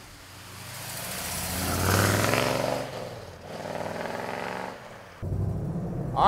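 A black 1970 Chevrolet Chevelle with a big-block V8 revs and pulls away, its engine note swelling, easing off, then surging loudly again near the end, with no talking.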